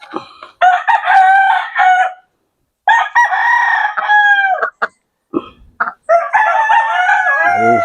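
A gamecock crows loudly and close by in several long, harmonic calls with short pauses between them, alongside a few brief clucks.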